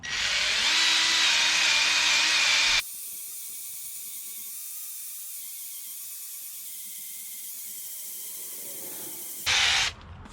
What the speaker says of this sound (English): I might try and polish it off, but we'll see how it goes with the compound